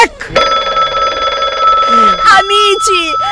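Comic stage sketch: a bright telephone bell rings loudly and steadily for about two seconds, then gives way to excited talk and laughter from the performers.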